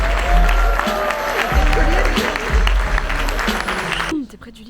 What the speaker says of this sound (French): Alors, c'est les applaudissements.